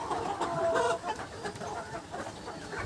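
A crowd of Tiger breed chickens crowding a water container, clucking and squawking together at close range, a busy, continuous flock chatter with no one speaking.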